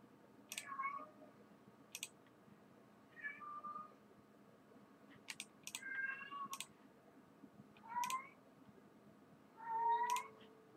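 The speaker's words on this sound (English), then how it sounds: "My cat's singing." A cat meows repeatedly, about five or six separate calls spread across the stretch, each a short wavering cry at moderate loudness, interspersed with sharp clicks over a quiet indoor background.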